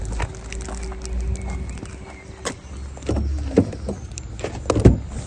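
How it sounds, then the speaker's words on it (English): The power tailgate of an Audi Q5 2.0 TDI Quattro S Line closes on its own: a motor whirs for a couple of seconds, then a latching clunk, followed by nearby footsteps and small handling noises. "Press this button, the boot will close on its own."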